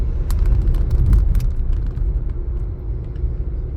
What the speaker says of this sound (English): I recently got a 2017 Ford Fiesta I'm driving